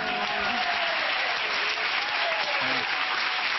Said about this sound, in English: a very little bit of that applause was for the music